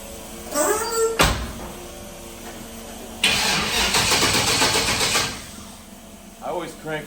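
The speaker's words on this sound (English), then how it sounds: "we're gonna start this up and run it in gear. It's a cold start." A Chevrolet S10 pickup engine is cold-started after sitting a week, cranking briefly before catching with a sharp burst and settling into a rough idle, with people talking around it.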